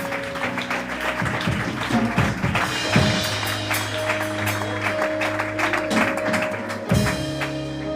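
A church congregation applauds, a dense run of clapping hands that swells and fades in uneven waves over a low sustained organ or keyboard chord, close and moderately loud.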